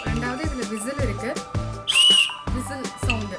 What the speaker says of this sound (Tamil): ரெண்டாவது இதில் விசில் இருக்குது